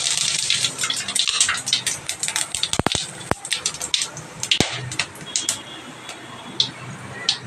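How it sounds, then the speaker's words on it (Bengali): Whole garam masala, cumin seeds and dried red chillies sizzle in hot oil in a kitchen pan, giving a dense, crackling spatter of quick pops that starts busy and thins into sparser ticks. "এখানে গোটা গরম মশলা জিরে আর শুকনো লঙ্কা ফোড়ন দিলাম"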